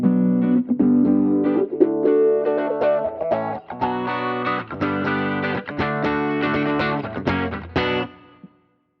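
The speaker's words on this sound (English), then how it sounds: "First, we have a band pass filter that is sweeping from 200 Hz" Electric guitar run through a Fractal FM3/FM9/Axe-FX III preset with a band pass filter sweeping upward for a pop tone, playing a steady rhythmic chord pattern whose brightness rises over several seconds, loud and alone, then stopping abruptly.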